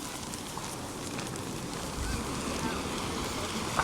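Evening sea waves at high tide on Batts Rock Beach, Barbados, make a steady broad wash of surf with wind buffeting the microphone, continuous and fairly loud throughout.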